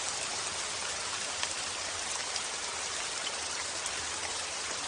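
Steady rain falls continuously, a dense even hiss of drops pattering on surfaces with no breaks and no voices.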